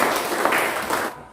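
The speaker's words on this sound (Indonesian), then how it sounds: "Silakan kita berikan tepuk tangan untuk." Applause from a classroom audience during a teacher training session, a dense steady wash of clapping that fills the moment and fades out near the end.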